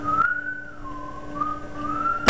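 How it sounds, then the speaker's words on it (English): A young boy whistles in the background of a room, one long steady held note that wavers slightly in pitch over a constant electrical hum, followed by a sharp click at the end. "My little brother's whistling."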